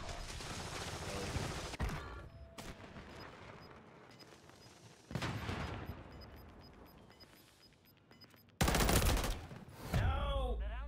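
Gunfire in the video game Call of Duty: Modern Warfare 3 during a Cutthroat match, with bursts of shots and loud blasts coming in separate bursts, and a player's voice talking between them.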